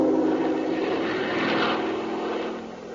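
A propeller airplane banks and descends toward an airfield, its engine a steady droning roar that swells slightly and then eases off, with no voices over it.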